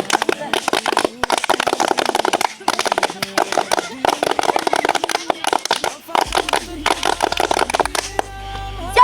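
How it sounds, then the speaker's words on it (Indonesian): Scouts at an Islamic boarding school camp in Lembata, NTT, perform the rhythmic tepuk pramuka group clap. Loud, close bursts of clapping come in patterned groups separated by short pauses, with voices mixed in. "Tiga kali tepuk pramuka."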